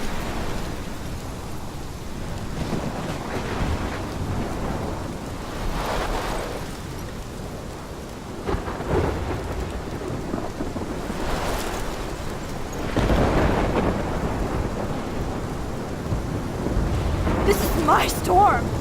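A thunderstorm in the video game Life Is Strange, with steady rain hiss and heavy rumbling swells of thunder building toward the end, partly under speech and music.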